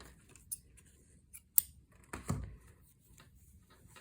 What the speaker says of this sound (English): Now cut the yarn